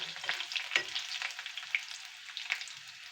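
Garlic, ginger and curry leaves frying in oil, a close, crackling sizzle with rapid irregular pops and spits that continue without pause.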